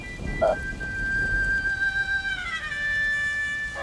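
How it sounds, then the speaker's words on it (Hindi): Sudden out-of-season rain pours down in a steady, dense hiss that fills the scene, with faint high whistling tones riding over the downpour. "बिन मौसम बारिश कैसे हो गई?"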